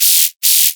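Two short bursts of harsh, crispy high-pitched dubstep synth noise, sidechained, with a brief silent gap between them.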